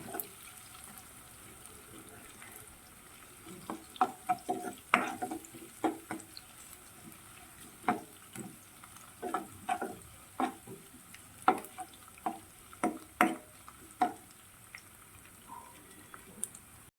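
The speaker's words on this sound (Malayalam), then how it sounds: "ഇഞ്ചി, പച്ചമുളക്, ഇതെല്ലാം നല്ലവണ്ണം ഫ്രൈ ആകണം" Chopped ginger, green chillies and garlic frying in a pan for pulissery, a soft continuous sizzle broken by a series of sharp spoon clicks and stirring knocks at an irregular pace.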